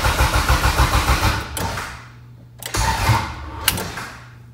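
A turbocharged project car engine cranks with a rapid rhythmic starter chugging, then stops; two more short crank attempts follow with sharp clicks, loud and close.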